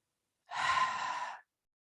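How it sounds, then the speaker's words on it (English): A single cleansing breath pushed out through the mouth during a vinyasa yoga flow, a close, breathy exhale lasting about a second, alone against silence. "Exhale it out the mouth, let it go."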